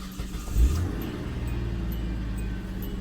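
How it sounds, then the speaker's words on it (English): A Hyundai Santa Fe fresh from an ignition system repair cranks and catches with a short surge, then settles into a steady, low idle rumble close by. "let's go ahead and start the car, see how it runs"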